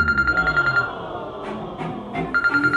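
A telephone rings on an unanswered call, a repeated electronic trilling close by over background noise, pausing briefly mid-way before the ringing resumes.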